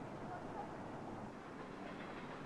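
A commuter train runs along the rails with a steady, faint rumbling roll and soft clickety-clack, a continuous low drone heard from a distance with no break.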